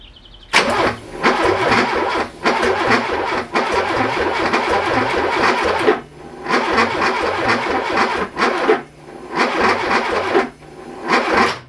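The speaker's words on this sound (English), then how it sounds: "So I'm going to crank now." A Porsche 924 engine cranks on its starter in long, loud bursts of steady rhythmic churning, pausing briefly between attempts without catching, close up with no talk.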